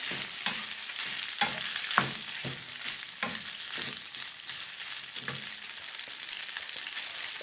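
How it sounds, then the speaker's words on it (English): White pasta being stirred in a pan, a loud steady hiss with regular scraping strokes of a utensil every half second or so, nearby and without speech. "Not that much pasta in. Alright, keep mixing."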